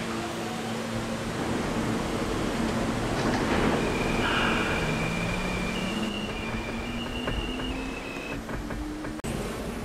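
A Roblox subway train idles and rolls at a station, a steady mechanical hum and drone with faint tonal whines and beeps rising and falling over about ten seconds, no talk.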